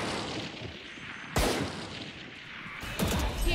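Gunfire in the video game Overwatch 2 as a turret is shot, with a steady noisy wash of combat punctuated by two sharp, loud bursts of shots.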